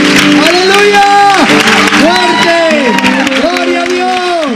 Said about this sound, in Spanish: Den fuerte el aplauso al Señor